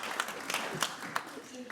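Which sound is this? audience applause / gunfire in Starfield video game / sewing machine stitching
audience applause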